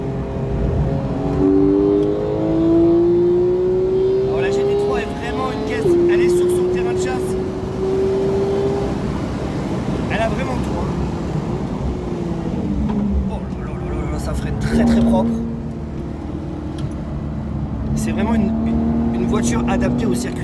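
A Porsche GT3 on a Formula 1 circuit sounds its engine loudly throughout, its pitch sliding up as it accelerates and dropping under braking for a chicane, with a voice speaking over parts of it.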